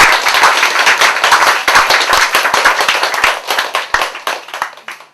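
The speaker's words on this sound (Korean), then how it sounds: "이럴 때 박수 한번 쳐야 되는데." Lecture audience clapping, a dense burst of many hands that runs for about five seconds at close range and thins out toward the end.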